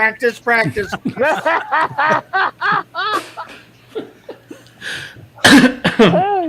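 A short cough bursts out near the end amid lively talk and chuckling, loud and close to the microphone.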